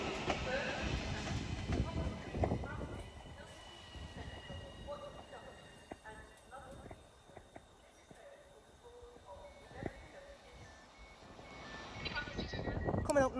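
A Class 331 electric multiple unit runs through Wigan North Western station, with rumbling wheels, brief squeals and clatter that swell again toward the end, joined by scattered voices on the platform.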